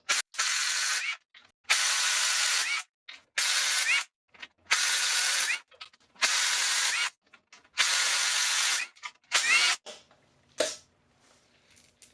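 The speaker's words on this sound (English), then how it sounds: "we're going to remove the oil pump next. There are 7 bolts, 10 millimeters." A hand ratchet backs out the 10 mm oil pump bolts on a 2008 Acura MDX engine during block prep. It gives about eight close, loud bursts of rapid clicking, separated by short silent pauses.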